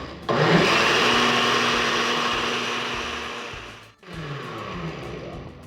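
A blender runs continuously at high speed, processing gluten-free Indian-style cake batter with no lactose. The whirring grind is loud and steady, briefly cuts out near the end, then restarts at a slightly lower level. No one talks over it.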